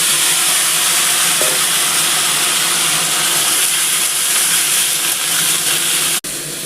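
Eggplant frying in hot oil after a nigella seed tempering gives a steady, loud, broadband sizzle that runs unbroken for several seconds, cutting out briefly near the end.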